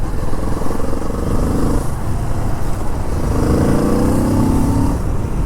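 A 2022 Kawasaki Z650 RS retro 650cc motorcycle engine runs with a steady, loud, close rumble, rising slightly in two spots as if lightly revved, with no talking.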